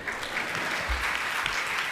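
Scattered applause from a seated audience of lay devotees at a Jain monk's discourse, a steady patter of many hands clapping at moderate distance for about two seconds, with no talking.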